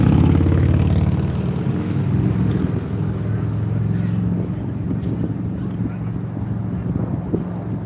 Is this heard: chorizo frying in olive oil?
no